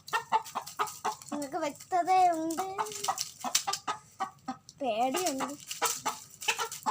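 A chicken fighting a snake gives rapid clucking and squawking bursts in short irregular runs, heard close alongside excited talking.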